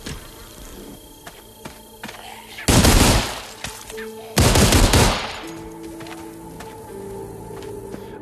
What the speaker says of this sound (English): I don't need to be shooting all these fucking bullets, dude.